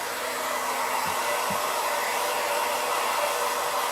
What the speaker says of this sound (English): with your acrylic paintings, you can hit them with a blow dryer